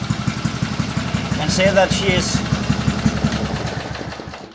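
An engine on a homemade trackless train idles close by in a steady, rapid low chugging pulse, with a person talking over it.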